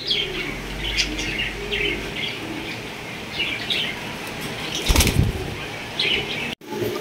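Danish pigeons, including a blue barless pair, beat their wings in repeated flapping bursts close by, with faint chirps and coos between and a sharper flurry of wingbeats near the end.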